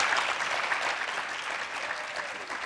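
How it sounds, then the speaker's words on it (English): Audience at a faculty roundtable Q&A in Detroit giving the panel a round of applause, dense sustained clapping from many hands throughout, fairly loud and even. "let's give them a round of applause."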